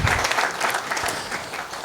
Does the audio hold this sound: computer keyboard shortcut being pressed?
no